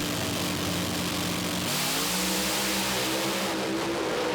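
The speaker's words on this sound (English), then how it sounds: "When they build that launch RPM up, it needs to be spot on to what they preset the car" A Pro Alcohol drag car engine revs up to launch RPM at a drag strip, a loud, continuous roar that shifts pitch partway through and holds steady, with no voices over it.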